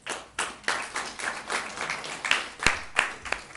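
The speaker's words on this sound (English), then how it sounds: "A lot of claps going on." Audience at a city council meeting applauding, a burst of scattered hand claps of moderate loudness with uneven rhythm, several sharper single claps standing out near the end.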